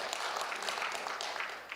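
A congregation at a New Year thanksgiving church service claps briefly after being urged on. A short burst of dense, moderately loud applause fills the room.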